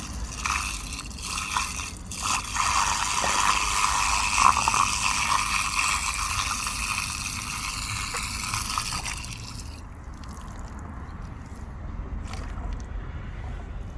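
A washing machine drain pump works outside, churning and gurgling as water is pushed up and falls back; steady close sloshing that quiets partway through to a softer running hum.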